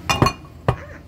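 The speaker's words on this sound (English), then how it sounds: "Sorry for the clinking." Dishes clinking while a Greek salad is made for chicken wraps: two quick close clinks of glass or ceramic, then a third sharper one, short and bright in a quiet kitchen.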